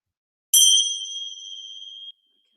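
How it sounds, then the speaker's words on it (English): A single yoga bell struck once to open a class, a clear bright ding with a sustained ringing tone that decays evenly for about a second and a half before stopping, heard alone in silence. "So let's begin with the bell."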